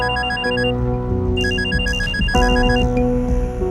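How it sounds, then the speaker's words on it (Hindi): A telephone rings with a repeating electronic ringtone, several bright tonal bursts in a steady pattern over a low musical background, fairly loud and with no talking. "एक बार फोन करके पूछे तो सही करिश्मा जी से कि।"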